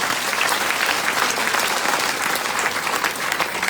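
A large seated audience breaks into sustained, dense applause, loud and even throughout with a faint crowd murmur beneath.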